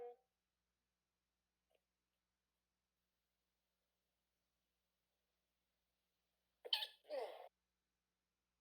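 A single sneeze bursts out near the mic during a tabletop Dungeons & Dragons session, short and sharp after a long stretch of near silence.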